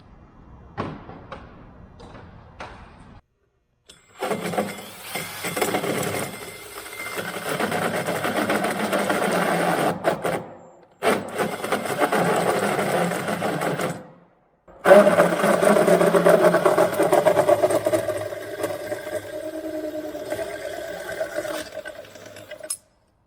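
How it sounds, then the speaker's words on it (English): Power drill boring a new hole through a wooden part of a Minimax 1100R wood aircraft, with three long bursts of whining motor noise broken by short pauses, close and loud, after a few faint taps. "So that's where we'll drill our new hole."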